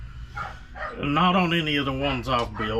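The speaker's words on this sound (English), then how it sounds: "Again, sorry for the dogs barking" Dogs bark in the background while someone talks steadily over them in a workshop, the barks partly masked by his voice.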